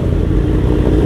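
A motorcycle being ridden onto a ferry at Wiseman's Ferry, its engine giving a loud, steady, close low rumble throughout.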